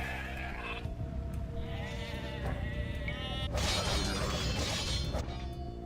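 Layered Age of Empires II: Definitive Edition audio with repeated bleating sheep calls over a busy background of clinks, crunches and a sudden bright shattering burst midway.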